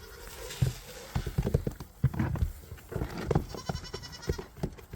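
Small young goats scamper past on a farm, a quick patter of hooves with bleats mixed in, fairly close and loud against a busy barnyard background.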